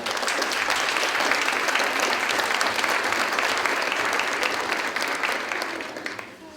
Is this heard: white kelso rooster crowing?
no